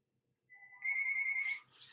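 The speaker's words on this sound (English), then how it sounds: "Mum is calling me." Mobile phone ringtone signalling an incoming call, a rising electronic melody that starts softly and swells to a loud, close, sustained tone with bright accents.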